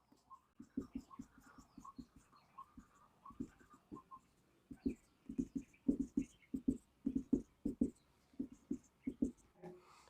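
Chalk or marker writing on a board during a chemistry lesson, a steady run of quick tapping strokes heard close, with a voice speaking quietly between them.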